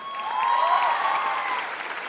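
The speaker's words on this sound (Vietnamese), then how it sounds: "một tràng phá tay cho câu chuyện cảm động của Lộc Vượng và Ngọc Anh thưa quý vị" Studio audience on a Vietnamese televised dance competition breaks into steady applause that swells and holds, a dense, even clatter of many hands with no talking.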